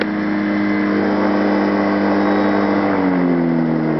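Light aircraft engine, model 101, run up to about 6,300 RPM in a short burst with the brakes on, a loud, steady mid-pitched propeller drone holding high, then its tone sliding lower near the end.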